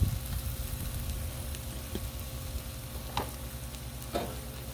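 Chilled basmati rice sizzles and crackles steadily on a Blackstone griddle for beef fried rice, a continuous soft frying hiss with a few faint scraping taps of a spatula stirring it.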